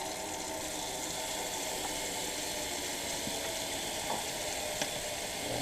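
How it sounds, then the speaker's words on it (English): Soapy water splashing and trickling while a survival knife is scrubbed clean, a steady wet wash of noise with a few small clicks of metal throughout. "A little bit of soapy water."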